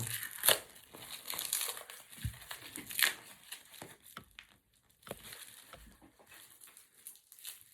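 Crinkling plastic package being torn and opened by hand, irregular crackling crumples and rustles in bursts, close and moderately loud, then quieter fiddling toward the end, with no speech.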